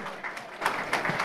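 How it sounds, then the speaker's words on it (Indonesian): An audience at a stage event applauds, with scattered claps rising and falling over a short stretch. A faint voice can be heard beneath the clapping. "Kita beri tepuk tangan yang meriah untuk Romo Magnes."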